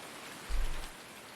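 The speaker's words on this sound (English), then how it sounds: "Need the rain to go away." Steady rain falling on a farm, a continuous dense patter with a brief low rumble in the middle, with no voices.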